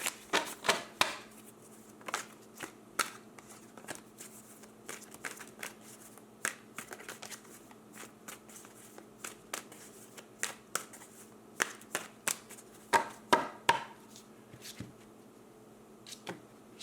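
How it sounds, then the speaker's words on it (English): Tarot cards are shuffled and pulled at close range, with quick riffles, crisp slaps and flicks coming in irregular bursts over a quiet room tone. "Pulling out cards for your person,"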